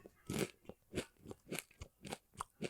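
Crisp, close crunching of spicy queso flavored popcorn snack chips, about eight sharp bites in a steady rhythm, alone with no voices.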